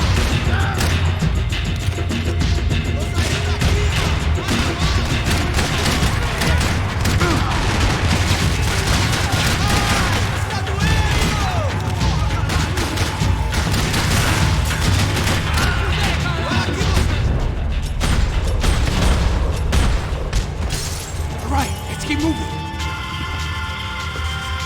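Gunfire in the video game Max Payne 3: continuous heavy shooting with dense, overlapping shots and crashes sustained at high volume, with voices talking over the battle.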